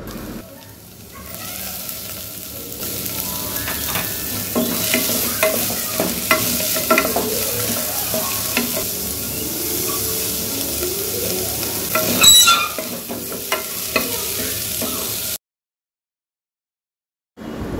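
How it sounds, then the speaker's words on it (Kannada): Chopped vegetables with garlic paste stir-frying in a pan for a millet kichidi, a steady close sizzle with scraping stirs and a sharper clatter near the end before it cuts to silence. "ಅವನ್ನೆಲ್ಲ ಹಾಕ್ಕೊಂಡು ಒಂದು ಸಲ ಕೈ ಆಡಿಸ್ಕೋಬೇಕು"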